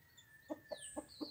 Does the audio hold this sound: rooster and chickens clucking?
yes